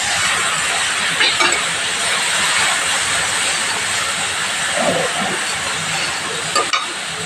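Water poured into a hot pan of lentils with drumstick leaves sets off a loud, sustained steamy hiss that fills the whole span, with a few faint clinks and stirring sounds, close up.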